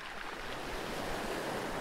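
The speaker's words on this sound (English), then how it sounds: "wondered why the pebbles make so much noise when they are rolled up and down by the waves?" Waves wash over a pebble beach, rolling the stones in a continuous, soft rushing clatter heard alone at a moderate distance.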